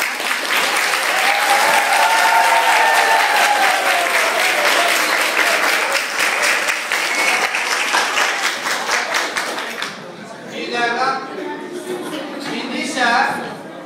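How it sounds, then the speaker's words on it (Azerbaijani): An audience at a team quiz show breaks into loud, sustained applause that fills the first ten seconds, then thins out while a presenter begins speaking over the last few seconds. "Alqışlarınızla."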